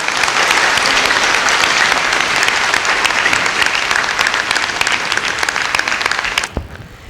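Loud, sustained audience applause at a Home Guard group event, a dense crowd clapping steadily for several seconds before cutting off abruptly near the end.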